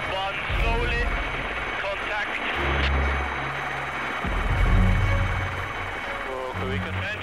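A rescue helicopter flying high in the Himalaya, its loud rotor thump and turbine whine running continuously while people talk over it.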